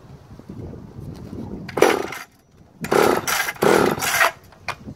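A JoBu SL2 34cc vintage top-handle chainsaw fires and runs in short bursts: a quiet start, then a loud blip and several strong revving pulses with brief gaps between them.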